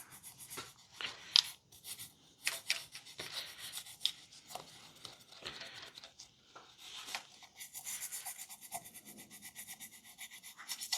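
A soft-bristled scrub brush works over engine parts on a secondhand mystery engine, giving uneven bursts of close, dry scratchy rubbing with short pauses, then a steadier run of brisk scrubbing near the end.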